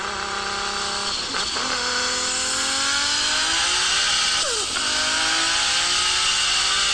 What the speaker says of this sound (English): Skyline sounds.